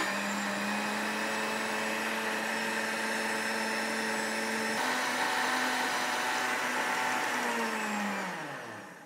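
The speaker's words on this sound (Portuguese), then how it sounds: "e já bato no liquidificador." A kitchen blender whirs steadily as it purées cooked lentils for soup, its motor pitch dropping slightly midway as the load shifts, then winding down to a stop at the end.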